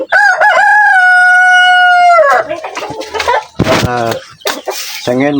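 A rooster crows loudly and close by in a long, drawn-out call, then chickens cluck and squawk in short bursts, with someone speaking in between.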